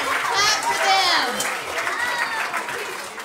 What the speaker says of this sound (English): Yes, clap for them.